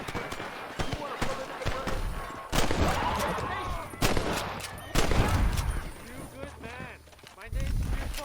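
Gunfire in the Red Dead Redemption video game, several sharp shots scattered through the passage over game music and ambience, with a voice talking at points.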